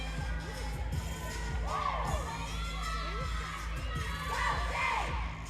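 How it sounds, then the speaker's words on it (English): Teammates cheer from the side of the floor during a college gymnastics floor routine: a steady crowd roar with excited shouts and whoops rising throughout, fairly loud and continuous. "Her teammates are along the side of the floor cheering her on."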